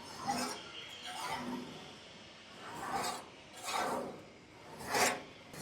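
Blade of a 3 HP three-blade, two-roller chaff cutter scraping along its edge as it is turned, five slow rasping passes evenly spaced, close and moderately quiet with no talk.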